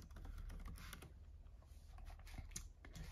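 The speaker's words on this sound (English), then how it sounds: "you can just go ahead and type it out" Soft, rapid keystrokes on a computer keyboard while a web link is typed, a continuous run of quiet clicks with no talking.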